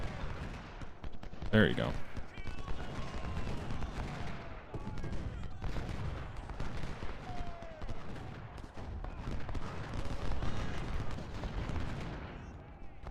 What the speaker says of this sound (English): Fire from front. And flank volley, go. Second flank volley, go.